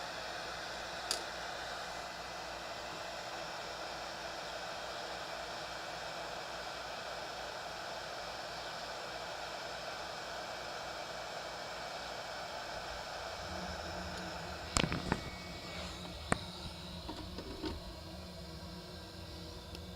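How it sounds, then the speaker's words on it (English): A heat gun used to shrink heat-shrink tubing on homemade breadboard LED leads gives a steady, close, whooshing blast of hot air that runs unbroken, with a few sharp clicks and knocks near the end. "Now I have my heat gun to cinch that down."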